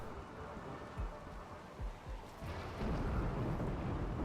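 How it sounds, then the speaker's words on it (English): Rain falls in RimWorld as thunder rumbles, with a few low rolls and thumps over a steady wash of rainfall that grows denser toward the end, moderately quiet. "Oh, it's raining."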